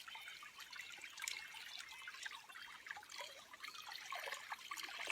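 Creek water trickles steadily at a sacred waterway site, a soft continuous bright wash of small splashes and gurgles with no voices, fairly faint and even throughout.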